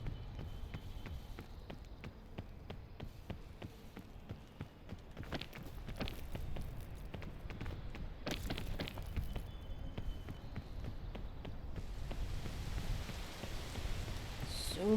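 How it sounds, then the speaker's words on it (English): Steady rain in the video game PEAK patters continuously throughout at a moderate, even level, with scattered sharper taps and drips and no talking. "So much rain."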